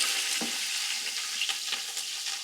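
Onion fries in oil with cinnamon, cloves and cardamom for biryani, producing a dense, loud, close sizzle with a few soft stirring scrapes and pops and no voices.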